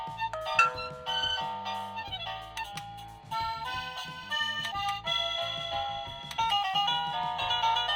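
A DiOBELL-B12 connected doorbell chime plays its melody at full volume, a loud, continuous run of bright ringing tones with no voices over it.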